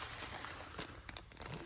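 A plastic bag crinkles and rustles close by in a brief continuous burst with a few sharper crackles.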